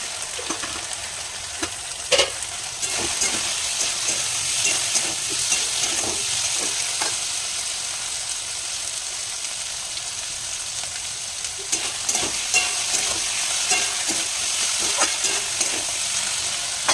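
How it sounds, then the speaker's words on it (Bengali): Potatoes and onions fry in a pan with a continuous soft sizzle, broken by occasional clinks and scrapes of stirring, close up with no talking. "আলু পেঁয়াজটা ভালো করে একটু লাল লাল করে ভেজে নেবো"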